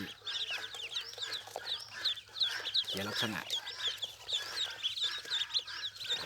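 Dense, continuous high-pitched peeping from many two-day-old ducklings, close and steady throughout, with a brief low rumble partway through and a voice speaking underneath.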